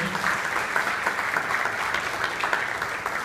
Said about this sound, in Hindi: उनको प्रणाम करके तालियों में गड़गड़ा से उनका अभिवादन करते हैं